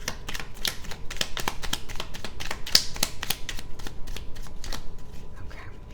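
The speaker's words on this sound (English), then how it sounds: "So I'm going to do that shuffle over." Close, steady hand shuffling of an oracle card deck (Ghostly Whispers of Love) runs for about six seconds as a dense stream of quick, papery flicks and snaps.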